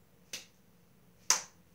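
Two light hand claps made with the fingertips touching, about a second apart, each a sharp, close, isolated snap with nothing else around them.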